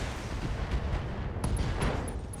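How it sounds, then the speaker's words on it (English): Mech ammunition explosion in the PC game BattleTech, heard as a dense, rumbling burst with sharp cracking detonations layered over a low boom, loud and continuous throughout. "Oh, ammo explosion."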